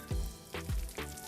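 Spiced meatloaf (dum ke kabob) dropped into hot butter in a pan sizzles, with a few sharp low thumps and bursts of frying hiss recurring roughly every half second, close and fairly loud.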